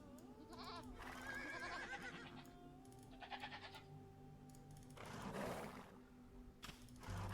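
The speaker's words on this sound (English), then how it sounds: "We're not gonna get these goats." Several goats in the video game Sundjata bleating in repeated wavering calls, some overlapping, set against a faint steady background hum, with brief mechanical clatter between calls.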